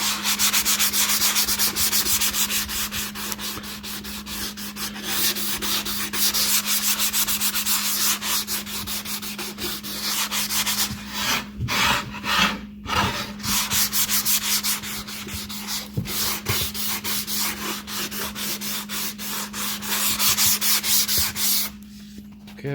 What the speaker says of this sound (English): you want to give each of your boards a light sanding just to knock all the rough edges off